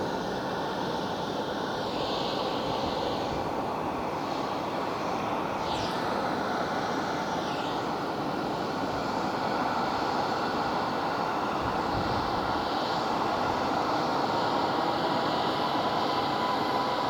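Former Horizon Air plane at Phoenix Sky Harbor airport, a steady broad jet engine rumble and hiss that holds loud and even throughout, with no talking over it.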